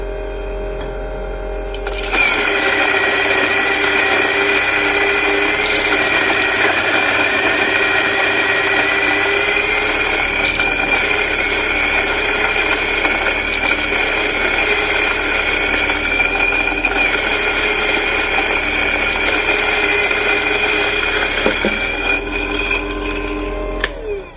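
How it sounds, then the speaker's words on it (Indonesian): An electric coffee grinder grinds Ethiopia Sidamo coffee beans, kicking in after a quiet moment and then running as a loud, steady motor whine with a rough grinding texture until it stops near the end. "Lalu kita akan giling ya."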